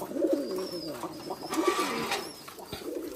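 Pigeons coo softly nearby in low, throaty repeated calls, with faint rustling and other bird sounds in the background.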